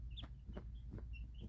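Pet chickens give soft, low clucks in a quiet, close setting, a few short rounded pulses roughly every half second with faint higher chirps between.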